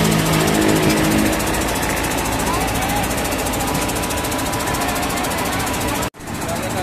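A truck engine runs steadily after starting during a roadside rescue, a loud continuous mechanical rumble with a low throb early on, briefly cut by a sharp dropout near the end.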